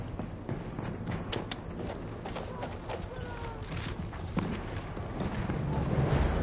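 Galloping horse hooves in the video game Battlefield 1, a rapid clip-clop rhythm that holds steady throughout, mixed with battlefield noise and a little talk.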